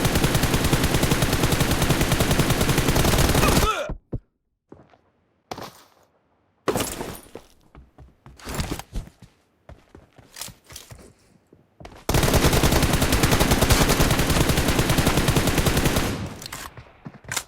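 Gunfire in the PUBG video game: long sustained bursts of loud automatic fire, then a stretch of scattered single shots and short bursts, and finally another heavy continuous barrage.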